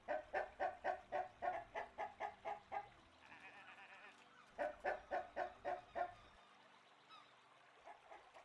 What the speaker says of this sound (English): And all these chickens to feed again.